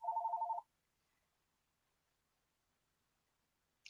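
A telephone rings once in a short burst of rapid trilling tones, then a long near-silence follows before a brief faint blip at the end.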